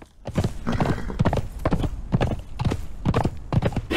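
A horse gallops in a video game, its hooves pounding out a fast, loud, rhythmic clatter of close thuds that runs unbroken throughout.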